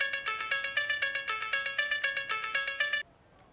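A mobile phone rings with an incoming call, a bright repeating ringtone melody pulsing steadily for about three seconds before cutting off into quiet room tone, with no one talking over it.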